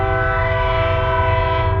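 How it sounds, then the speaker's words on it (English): A train passes close by with its horn sounding in a long, loud, steady blast over a deep rumble of rolling cars, heard alongside a parked hotshot trucking rig. "Of course, we have a train going by."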